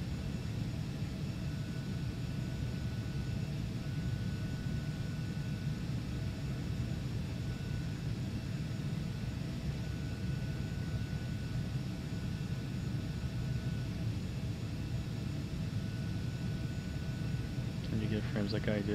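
Cessna C550 jet engines drone in the Prepar3D flight simulator as a steady even rumble with a faint whine, and a few clicks sound near the end.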